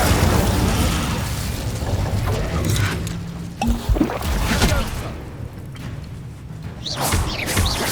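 A fire spell cast in Hogwarts Legacy bursts out with a loud whooshing, popping blast, followed by crackling flames and rumbling effects over continuous game ambience, with a second burst near the end.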